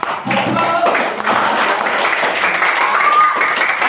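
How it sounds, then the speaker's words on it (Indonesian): A room full of people claps hands in a short, close burst of applause mixed with cheering voices, with scattered taps and thumps in the busy crowd noise. "Tepuk tangan buat yang suka matematika. Tepuk tangan bro, yang semangat."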